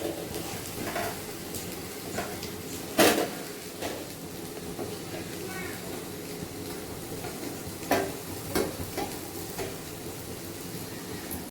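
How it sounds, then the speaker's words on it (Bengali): Slices of bread toasting in a pan give a low steady sizzle, broken by a few clattering knocks of utensils against the pan, close and fairly quiet. "যে কটা পাউরুটি সেঁকে নিচ্ছি"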